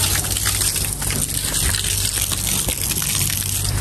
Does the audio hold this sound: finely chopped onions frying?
no